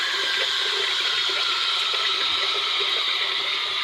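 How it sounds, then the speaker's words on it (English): Water runs hard and steady from a tap into a sink, a continuous close rushing with no pauses. "I'll get a little more water in there while I clean this off some."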